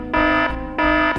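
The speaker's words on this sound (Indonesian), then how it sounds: "Itu kan bunyi alarm CCTV." A CCTV alarm in a Sakura School Simulator animation blares two loud, harsh buzzing tones with a short gap between them, sounding alone at close range.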